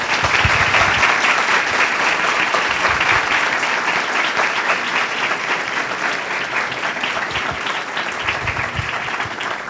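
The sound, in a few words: audience applause for a speaker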